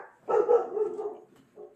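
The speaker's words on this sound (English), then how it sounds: "Uh-oh, big dog barking." A beagle gives one loud, close bark that trails into a short howling whine, followed by a fainter second yelp, indoors with no talking.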